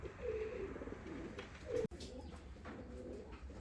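Ornamental costume pigeons coo softly in low, rolling phrases, with a brief sharp knock in the middle. The birds sound near and faint over a steady background hiss.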